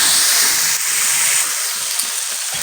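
Dal tarka being stirred and fried in a pan gives a loud, steady broadband sizzle and hiss, continuous and close with slight stirring variations.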